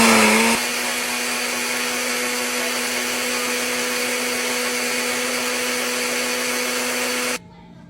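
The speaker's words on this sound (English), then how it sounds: "Now I have everything in the blender and we're gonna mash." A blender whirs steadily, mashing banana pancake batter made with water, a constant motor whine running for about seven seconds before it shuts off abruptly.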